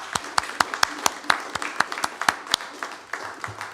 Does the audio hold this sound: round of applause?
yes